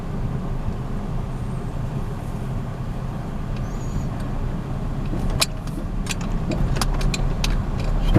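A car drives along with a steady low engine and road rumble close by, and several sharp clicks and knocks rise near the end.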